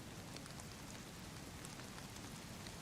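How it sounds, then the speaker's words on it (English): Steady rain in the survival video game DayZ, a dense, even hiss of falling drops with faint patters on surfaces, continuous and alone without voices. "This rain is terrible. I'm so sick of the rain."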